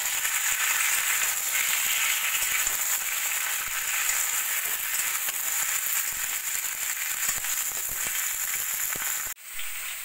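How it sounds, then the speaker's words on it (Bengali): Cauliflower pieces fry with onion in a hot pan, a loud, dense, continuous sizzle and crackle heard up close, cutting off briefly near the end. "ফুলকপি ভাজা হতে হতে"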